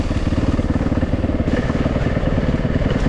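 A Yamaha WR450F dirt bike, uncorked, runs hard with a rapid, even, close-up engine pulse throughout, loud and unbroken with no talk.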